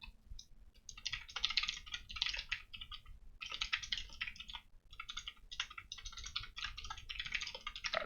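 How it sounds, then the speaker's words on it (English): Rapid keystrokes on a computer keyboard typing out a C program, quiet close clicking in irregular bursts separated by short pauses. "then we're going to type in a C program."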